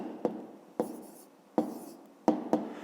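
Pen scratching on paper while a math problem is worked out, five short strokes in an uneven rhythm, close and quiet with nothing else in the background.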